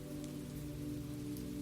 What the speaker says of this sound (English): where rain falls gently in the center